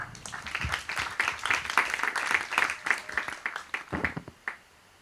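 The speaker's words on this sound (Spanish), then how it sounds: "Aplausos para ella, por favor." A small group claps steadily for several seconds at a law lecture, a dense patter of hands that fades out abruptly at the close.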